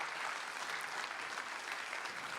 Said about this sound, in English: they definitely deserve a round of applause tonight